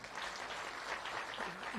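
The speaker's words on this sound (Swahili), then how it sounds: "waheshimiwa wabunge wa kaunti ya hapa, asanteni sana waheshimiwa, tuwapigie makofi" Audience applause at an SMEs, cooperatives and revenue expo at Embu University, a steady, fairly distant patter of many hands clapping throughout.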